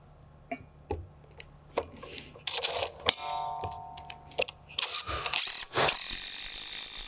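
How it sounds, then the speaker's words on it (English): Screws being driven to fasten an Elements attached-pergola post mount down to a deck, heard as several short, loud bursts of whirring and clicking fastening noise separated by brief pauses. "You can go around your whole post at this point, put all 4 of your screws in."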